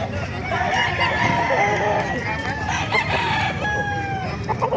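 Roosters for sale at the Bocaue market crow and cluck in a dense, continuous chorus, several birds overlapping nearby and farther off, with market chatter underneath.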